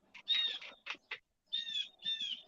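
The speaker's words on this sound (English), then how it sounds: "you sitting enjoying the birds too?" Birds chirp outside on a porch in short, bright trills and tweets, a few close bursts separated by quiet gaps.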